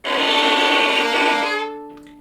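A violin note bowed too close to the fingerboard with too much weight starts abruptly with a harsh, scratchy, crunching tone, grinding for over a second before easing into a thinner pitch.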